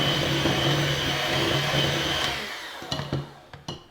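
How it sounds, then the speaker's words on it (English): A stand mixer with a paddle attachment whirs steadily while beating cookie dough, then winds down near the end, followed by a few clunks and scrapes. "if you have a stand mixer with a paddle attachment, use that"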